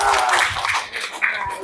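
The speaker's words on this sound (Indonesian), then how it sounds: "Tepuk tangan." An audience claps hands at an Indonesian cultural literacy workshop session, a brief burst of dense applause with a voice talking over it.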